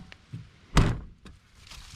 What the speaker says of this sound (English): Door still closes pretty well.